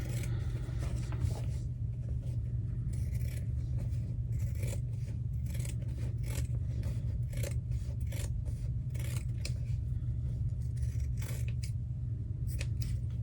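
Scissors cut through fabric for a two-tone headband, a steady rasping stream of close, repeated snips and rubbing with no talk.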